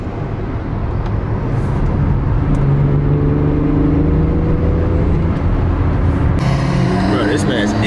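A car's engine intake roars as it accelerates through rush-hour traffic at Fuel Fest 2023. The intake note rises and holds loudly over road noise, with a sharper burst near the end.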